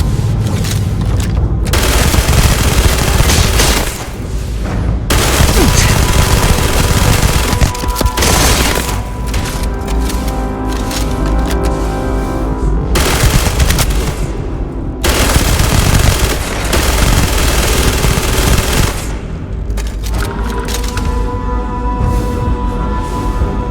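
Sustained automatic gunfire from weapons in the space RPG Starfield, loud, dense and continuous, with rapid bursts broken by brief pauses around five, fifteen and twenty seconds.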